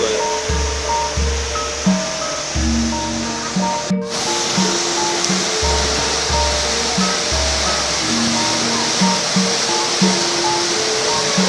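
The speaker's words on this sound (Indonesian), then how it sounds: "Ketinggian air terjun sekitar 30 meter pemirsa, dengan debit air yang cukup kencang." Grojogan Watu Jonggol waterfall, about 30 metres high with a strong flow, roaring as a steady close wash of falling water alone, with a few low thumps mixed in.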